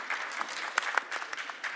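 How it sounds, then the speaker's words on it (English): A small audience at a technology summit panel gives quiet applause for the guests, with scattered, fairly distant claps, a few sharper hand strikes standing out, and no speech. "I would ask for a round of applause for these gentlemen for joining us for the panel discussion"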